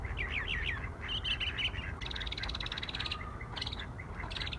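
A mockingbird sings outdoors in Cambridge with a quick run of varied chirps, tweets and short trills. The bird sounds fairly distant over a low background rumble.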